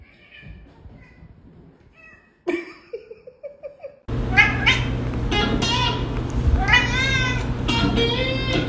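A house cat meows several times, first soft short calls, then louder drawn-out, chattering meows over a hum of background noise, with someone laughing and talking nearby.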